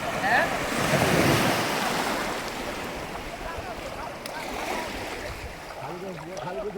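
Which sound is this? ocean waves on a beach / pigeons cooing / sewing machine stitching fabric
ocean waves on a beach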